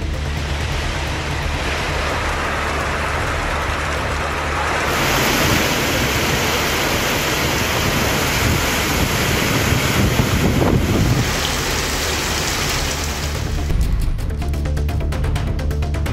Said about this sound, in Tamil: நாகையில் கடல் சீற்றம் அதிகரித்தது